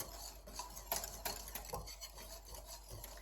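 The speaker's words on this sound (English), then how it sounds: "it says to whisk it together. So I'm incorporating those dry ingredients together." Dry brownie ingredients being whisked together in a bowl, with soft scraping and rubbing strokes in a steady, uneven rhythm, close and fairly quiet with no talking.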